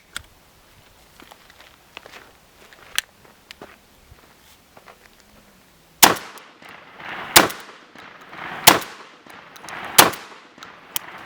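A Benelli M4 EXT semi-automatic shotgun fires four target loads, each a sharp, loud blast spaced about a second and a half apart, after a stretch of quiet handling clicks and rattles.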